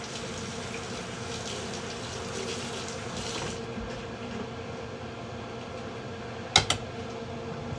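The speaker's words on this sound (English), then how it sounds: "I'll wash off my knife real quick." Running tap water pours in a steady, even hiss while a knife is washed under it, ending with a couple of brief clunks.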